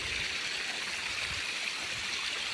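Water runs evenly out of a pipe into the furrows of a maize field, a steady close trickle and rush with no break and no other sounds.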